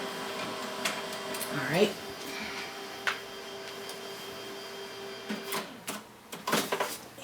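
A desktop printer runs off scrapbook-paper business cards, its feed and print mechanism whirring and ticking in short bursts with sharper clacks near the end, while a person speaks briefly close by.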